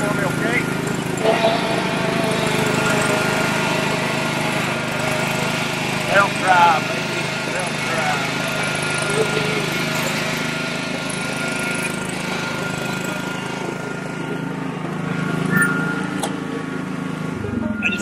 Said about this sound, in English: I might crank without me working the choke.